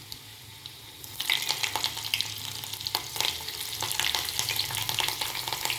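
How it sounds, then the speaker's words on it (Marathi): Garlic pieces and two green chillies fry in hot oil for a dal tadka, a steady crackling sizzle that jumps louder about a second in and keeps popping and spitting close by, with no voices. "आता आपण लसणाचे तुकडे घातलेले आहेत. त्याचसोबत 2 हिरव्या मिरच्या,"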